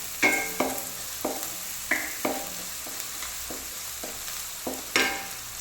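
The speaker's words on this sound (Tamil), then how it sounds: "அப்போ கொஞ்சம் வெங்காயம் இன்னும் நல்லாவே ஃப்ரை ஆகும்." Onions frying with salt in a pan, stirred with a utensil: steady sizzle under sharp scraping strokes that land roughly every half second to second, close and moderately loud, with no talking.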